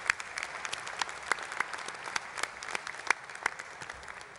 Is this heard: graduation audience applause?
yes